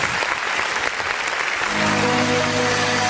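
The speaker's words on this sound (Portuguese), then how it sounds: "Vamos dar uma salva de palmas bem forte para Jesus?" A church congregation claps in dense, energetic applause. About halfway through, a sustained organ or keyboard chord comes in underneath the clapping.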